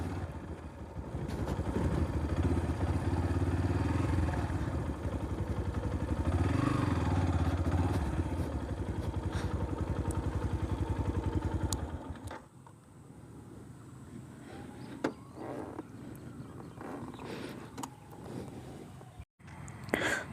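A Yamaha FZ-S V3 Deluxe motorcycle engine runs with a steady, close rumble for about twelve seconds, then cuts to quieter outdoor ambience with a few clatters.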